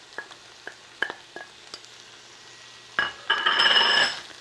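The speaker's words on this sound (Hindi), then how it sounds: "अब इसी के ऊपर जो है ना हमने ऐड करना है ये 1 ऑनियन जो हमने चॉप किया था।" A few light clinks come first, then chopped onion drops into a hot pan for lasagna and bursts into a loud close sizzle that holds for about a second before easing.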